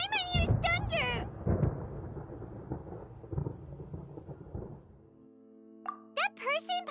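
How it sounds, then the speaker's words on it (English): Thunder rolls in a long, deep rumble with rain-like crackle during a storm in the video game Genshin Impact, framed by a high-pitched character voice speaking before and after. "Paimon hears thunder!"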